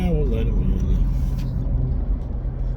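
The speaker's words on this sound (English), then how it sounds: "she did a little downshift, a little burp on us" A truck on the road ahead gives a brief downshift burp, its engine note rising and dropping over a rumbling bed of road and vehicle noise, heard from a following vehicle.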